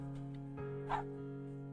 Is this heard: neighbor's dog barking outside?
yes